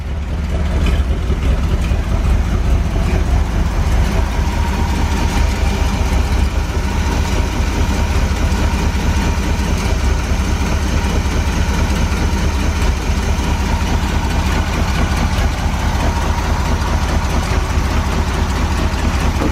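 A Corvette V8 idles close by with a steady, deep, rumbling drone that stays even and loud throughout, with no voices over it.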